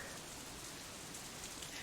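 Steady rain pours in the game Katawa Shoujo, a constant dense hiss with no breaks, soft and even, alone with no voices.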